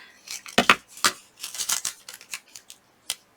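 Scissors snip through washi tape in a quick series of close, crisp cuts, a few clustered together and a last isolated snip after a short pause, with no talking.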